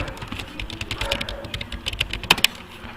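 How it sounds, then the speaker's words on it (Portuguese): A password is typed on a computer keyboard, a close run of quick key clicks ending in a couple of harder strokes, with a faint voice in the background. "Vou digitar aqui a minha senha e vou dar um enter."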